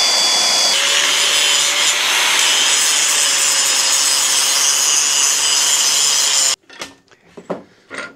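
Small metal pieces for the steering side of a Loadstar front axle spring-under conversion are cut down, giving a long, loud, continuous grinding-cutting rasp that ends abruptly and is followed by a few scattered clanks and handling noises.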